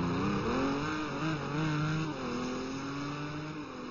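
Race car at Monza climbing out of a sand trap after stalling, its engine droning steadily in a loud, continuous revving hum with slowly shifting pitch, close and unbroken.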